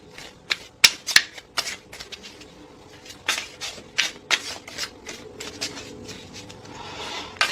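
Tarot cards shuffled by hand, a run of sharp riffling snaps and soft slides, close and clear, spaced irregularly with quieter rustling between.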